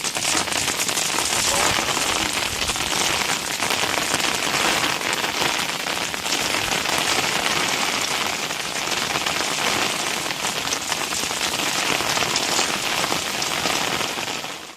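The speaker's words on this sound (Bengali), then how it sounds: "এরই মধ্যে কিন্তু বর্ষা চলে এসছে, মানে বর্ষা হচ্ছে প্রচণ্ড" Heavy monsoon rain pours down in a mangrove forest at Pirkhali, a loud, dense, unbroken hiss of drops striking leaves and surfaces, steady from start to finish.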